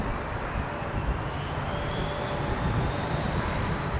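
Pakistan International Airlines airliner at London Heathrow, a steady broadband jet roar with a faint rising whine, loud and continuous throughout.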